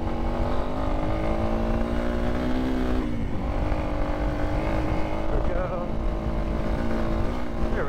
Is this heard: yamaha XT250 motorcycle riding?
yes